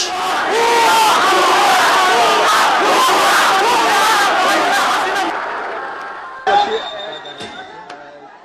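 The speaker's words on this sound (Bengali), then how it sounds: "সবার মুখে বিজয়ের স্লোগান আর আনন্দ উল্লাস" A large crowd in Bangladesh chants victory slogans and cheers in celebration, a loud dense roar of many voices close by that fades out after about five seconds, leaving quieter scattered sounds.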